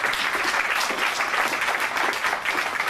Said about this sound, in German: Dürft ihr mal klatschen.